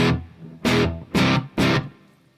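An electric guitar played through a big, full reverb effect in MainStage sounds four loud, separate strummed chords in an even rhythm, each one ringing and decaying into a lush tail, with no voices.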